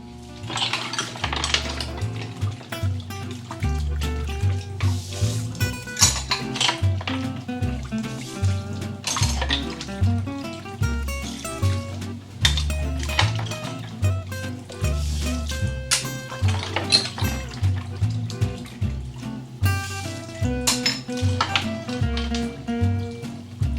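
Dishes get done in a kitchen sink while a mug cake cooks: plates, pots and cutlery clatter and clink in a busy, continuous jumble up close, with water sloshing now and then.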